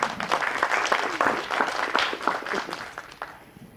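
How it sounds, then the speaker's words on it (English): An audience applauds after a team's pitch at a hackathon pitching session: dense, steady clapping from a crowd that stays fairly loud throughout, then thins and fades in the final moments. "Round of applause, ladies and gents."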